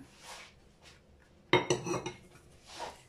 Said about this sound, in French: Là, on mélange tout ça.